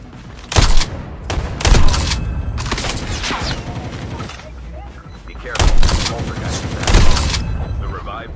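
Gunfire from a ground-loot KRM shotgun in Call of Duty Mobile battle royale near Black Market: several loud, sharp blasts spaced about a second apart, set against constant game noise, with voices heard faintly in the mix.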